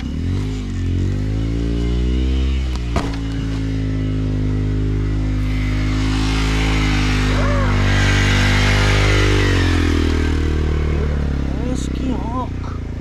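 A Hero XPulse 200 motorcycle engine idles after a kick start during hard enduro riding, a steady close-up thrumming with a sharp clack partway through, running on without revving much.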